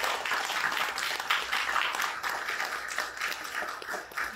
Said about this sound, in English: So I'll give you an opportunity to give yourself an applause here.